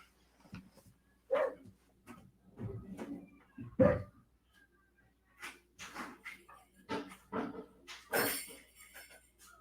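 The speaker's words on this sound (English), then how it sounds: "I'm going to let my dog in" A dog comes into a house as a door opens: scattered knocks and clatter, a few short barks and paw and collar noises, moderately close, with no talking.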